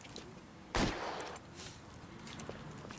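A single sharp, close gunshot from a sniper rifle in the video game L.A. Noire, booming briefly and trailing into a short echo over low background ambience.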